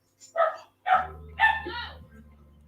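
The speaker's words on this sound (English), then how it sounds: "you hear my dog in the background" A dog gives a few sharp barks and yips indoors, with a low steady hum underneath.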